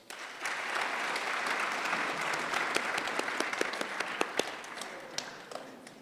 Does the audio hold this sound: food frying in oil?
no